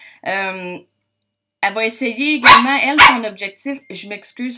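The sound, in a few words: dog barking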